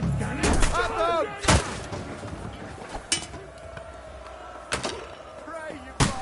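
Gunshots from a gun in the video game Kingdom Come 2 sound as a few loud, sharp blasts spread out with gaps between them, over background game sounds and talk.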